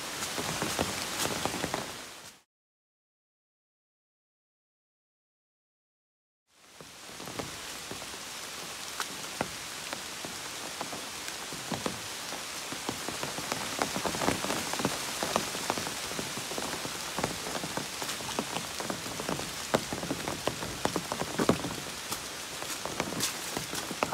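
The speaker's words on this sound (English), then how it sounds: "I think it's gonna rain the rest of the day." Heavy rain pelting the ground and foliage along the Appalachian Trail, a dense, steady hiss of drops that cuts out briefly near the start, then returns loud and unbroken for the rest of the clip.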